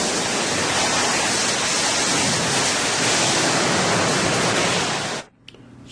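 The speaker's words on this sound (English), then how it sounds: "Hose streams can now be used to complete extinguishment. Large flows of water will be needed to complete final extinguishment and mop-up" Powerful hose streams spraying large flows of water onto an industrial fire, a loud steady broadband hiss and roar that holds for over five seconds before cutting off abruptly, leaving faint residual sound.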